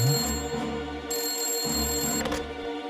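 A telephone rings in a Hindi children's cartoon, a loud bright electronic trill repeating in short bursts, close and alone with no talk.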